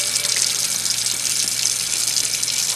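Warm bath water gushes steadily from a tap into a bathtub, a loud, close, continuous splashing hiss that holds even throughout, with no talking.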